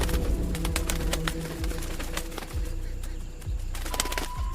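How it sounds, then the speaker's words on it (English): Birds cooing and calling amid scattered clicks and rustling, with soft fluttering sounds at moderate distance. "the flock of birds"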